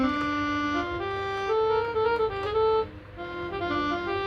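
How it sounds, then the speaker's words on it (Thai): Saxophone patch from Logic software playing a short melodic phrase of sustained, reedy notes stepping up and down, close and clear with no talking. "แบบนี้อันนี้มันเสียงแซก"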